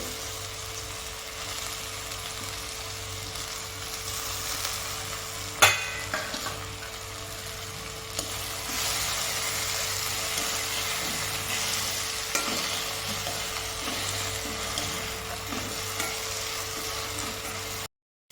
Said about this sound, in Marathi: हे बघा मस्त अशी कांद्याची पात भाजली आहे